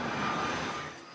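American Airlines passenger jet from Miami arriving at St. Martin and passing close overhead, a loud broadband roar that fades over about a second, with no talking.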